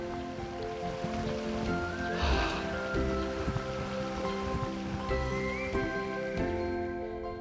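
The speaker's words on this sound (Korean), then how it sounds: "겨울 물소리, 여름 물소리 다 다르죠?" Continuous rushing and pattering of flowing water, steady and close, with soft tonal music playing underneath.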